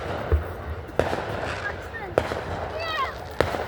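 Fourth of July fireworks bursting at a distance, several sharp booms spaced about a second apart with faint whistling trails between them, under people chatting.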